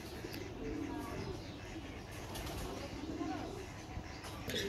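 Military army red-patti chila pigeons cooing in soft, repeated low warbles under a steady background din.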